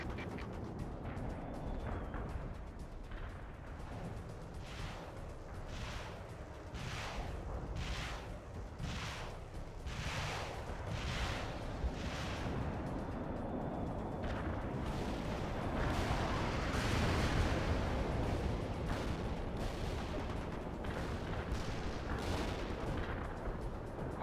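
Artillery fire booms repeatedly in the World in Conflict video game, a steady barrage of heavy blasts over a dense rumbling battlefield din, with no speech.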